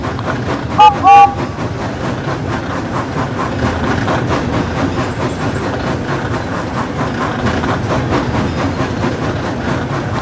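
A toy train moves away, rumbling steadily along the tracks with rhythmic clatter, and a brief horn sounds twice near the start.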